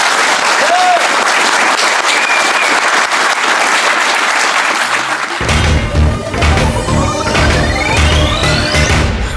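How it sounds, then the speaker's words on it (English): Loud applause fills the space with dense clapping at the end of a San Diego Comic-Con 2018 panel, then a burst of music and crowd noise swells in partway through. "A huge round of applause for"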